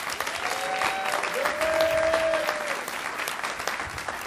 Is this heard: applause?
yes